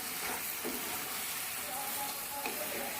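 Mutton fries in a pan with ginger-garlic paste while being stirred, a moderate sizzling hiss with scraping movements, and a voice talking faintly underneath.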